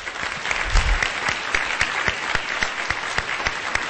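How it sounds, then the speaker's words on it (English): Audience applause at the State of the Net policy conference in 2009, a steady wash of many hands clapping that fills the room evenly for several seconds, loud and close with no voices over it. "Let's give Josh Silverman a round of applause."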